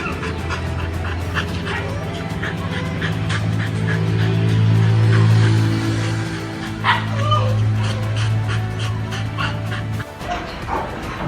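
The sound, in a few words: dog barking and whimpering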